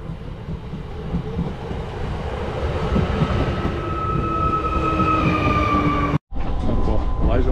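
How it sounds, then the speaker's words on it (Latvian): A passenger train rolls into a station at evening on a trip out from Riga, its rumble steady and loud with a high brake squeal rising over it, then a brief cut before the noise resumes. "Un te mūsu vilciens"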